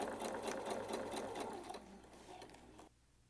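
A sewing machine stitches steadily through fabric while sewing a kick pleat, its fast rhythmic whir running continuously before slowing and stopping near the end.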